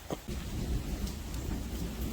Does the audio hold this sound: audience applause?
no